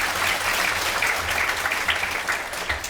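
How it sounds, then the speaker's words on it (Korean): Audience members at a public deliberation forum on a proposed Starfield shopping mall in Changwon applaud the four debaters, a steady, dense round of clapping from a sizable crowd that lasts throughout. "네 분 위해서 박수 좀 부탁드립니다."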